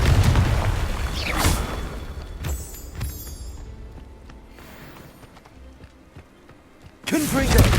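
Confringo blasting spells explode in the Hogwarts Legacy video game: several loud, sharp bursts and booms a few seconds apart, with the last one strongest, over a low game background.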